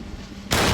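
A single gunshot fired at a target cracks out loud and close, a sudden broadband blast that holds steady to the end after a quiet lead-in.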